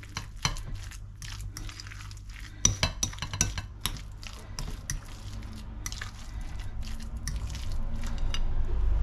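A utensil stirs lumpia shanghai filling in a bowl, giving soft wet squishing and the occasional clink against the dish, close up and fairly quiet with no talking.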